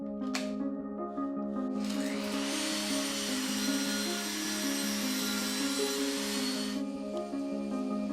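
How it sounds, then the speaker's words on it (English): A power drill or driver drives screws through plywood scraps into a board in a woodshop, a steady high whirring buzz lasting several seconds over a constant low tonal hum. "I'm just going to screw on some plywood scraps."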